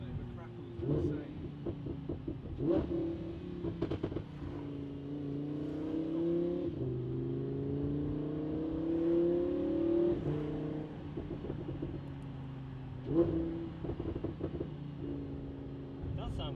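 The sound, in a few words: Lamborghini Huracan with custom exhaust crackling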